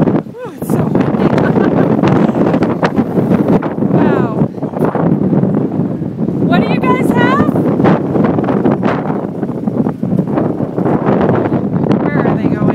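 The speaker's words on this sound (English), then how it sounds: "Oh, it's so windy." Strong gusting wind buffets the microphone outdoors on a windy day, a loud continuous rumble throughout while several people talk over it and birds call briefly.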